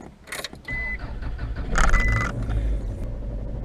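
A parked car's engine idles as it warms up, a low steady rumble that swells after a few soft clicks and rustles nearby, close and continuous with no speech.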